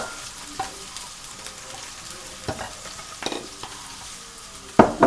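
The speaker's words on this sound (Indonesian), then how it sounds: "habis itu masukkan bawang bombay. Kalau minyaknya udah panas ya." Chopped onion frying in hot oil, a steady sizzle under repeated scrapes and knocks of a utensil stirring the pan, with a louder clatter near the end.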